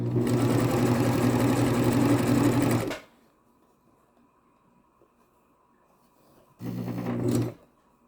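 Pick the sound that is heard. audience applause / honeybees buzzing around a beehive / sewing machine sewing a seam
sewing machine sewing a seam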